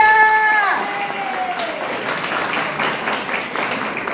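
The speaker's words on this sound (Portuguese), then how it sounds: "Muito bem, palmas para Maria Lúcia!" An audience at a seniors' discussion meeting on sexuality after fifty gives a short burst of applause that fades to a light patter, following a brief high tone at the start.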